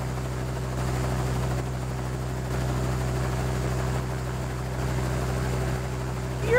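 Zeppelin propeller in the Dinosaur Train video game, a steady droning hum with a low whirring buzz, continuous and even throughout, with no talk.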